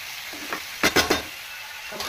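Tomato pieces stirred into a pan for a chickpea and dry fish curry: a soft sizzle runs underneath while a few scraping strokes of a spoon against the pan stand out, close and brief.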